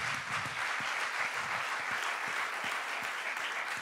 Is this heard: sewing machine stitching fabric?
no